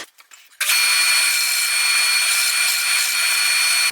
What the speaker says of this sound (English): The easiest way to get that off is with a disc sander.